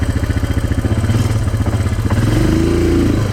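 Yamaha Grizzly ATV engine chugging steadily as it climbs a slope in four-wheel drive, a loud, close, throbbing drone that rises in pitch toward the end.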